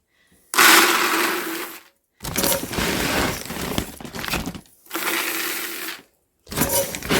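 A ladle scoops homemade chicken feed of pellets mixed with crushed wheat, barley, corn and oats, producing four loud, rattling, gritty scrapes separated by short silences.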